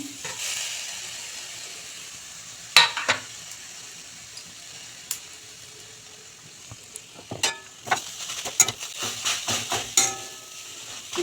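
Grated coconut stirred with semolina and jaggery in a pan, giving a soft sizzle with scattered scraping clicks from the spoon that grow busier toward the end.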